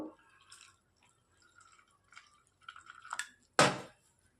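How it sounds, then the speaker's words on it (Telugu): Water goes into a coconut-oil batter in a bowl: a few soft, sparse drips and small liquid sounds in a quiet room, ending in a sudden louder splash as the mixture is stirred. "ఇట్లా నీట్గా నీళ్ళు వేసి నీట్గా కలిపి పెట్టుకుందాం"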